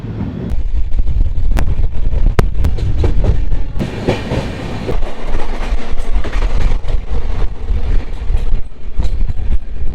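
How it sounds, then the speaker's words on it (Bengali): A passenger train stands at platform 9 of a station on the Kolkata to Banaras line, with loud continuous rumbling, hiss and scattered sharp metallic clanks and knocks close by. "আমাদের 9 নম্বর প্ল্যাটফর্মে ট্রেন এসে দাঁড়িয়েছে"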